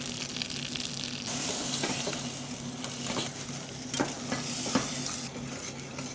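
Cream going into a hot butter and sugar sauce for sticky date pudding, giving a steady close sizzle with stirring and liquid sloshing throughout, brief scraping clatters near the end.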